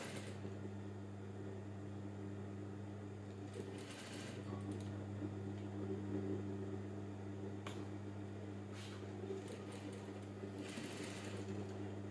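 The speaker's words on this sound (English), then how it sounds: "Just small top stitching on both sides to enable it to relax very well." A sewing machine runs a continuous top stitch along a child's native top, a steady close motor hum and needle chatter with faint clicks of fabric handling.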